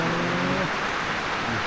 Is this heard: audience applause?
no